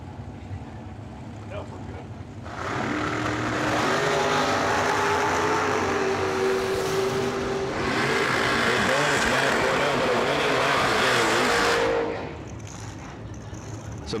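A pair of drag-racing dragsters launch down the racetrack at a drag race event, a loud broad roar that swells and holds for about ten seconds before dropping away, with an announcer talking over it.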